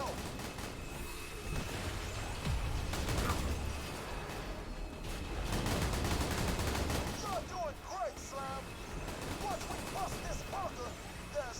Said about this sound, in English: Are you shooting the Hyperion sniper?